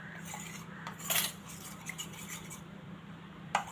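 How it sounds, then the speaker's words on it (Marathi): A spoon stirs settled cornflour slurry in a bowl while making crispy paneer cutlets, giving quiet scrapes and a few light metallic clinks against the bowl over a low steady hum, with no talk. "ते खाली बसतं कॉर्नफ्लॉर त्यामुळे ते परत घेताना ढवळून घ्यायचं असं चमच्याने"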